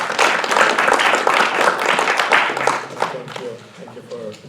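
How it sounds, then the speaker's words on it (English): Audience applause after a public health preparedness session at a conference, a dense patter of clapping that thins out toward the end, with faint talk underneath. "So let's give a round of applause."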